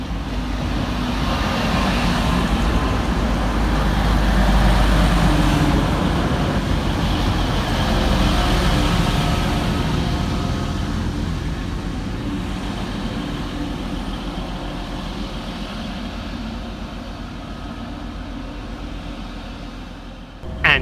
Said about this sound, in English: Next arriving into the station is 185 115, working the 1353 Transpennine Express service from Huddersfield through to Leeds